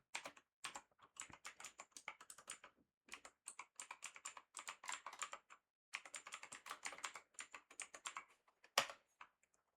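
Steady bursts of typing on a computer keyboard while entering code comments for a simple Roman numeral program, quick clattering keystrokes in clusters separated by short pauses, close and alone with no talk.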